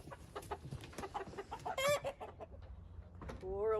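Chickens cluck and squawk loudly and close by while their wings are being clipped, with one sharp rising crow-like call near the middle and another at the end, over steady rustling and handling noise.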